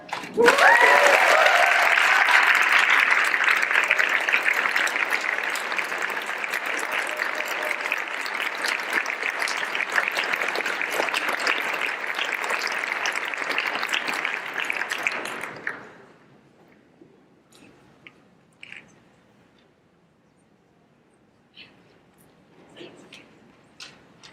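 A large audience at a 4S 2015 plenary award ceremony in Denver breaks into sustained, loud applause for about fifteen seconds, then it stops abruptly and only faint taps and room noise remain.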